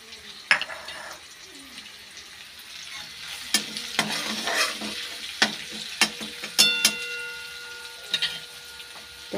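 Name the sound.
tomato frying in spices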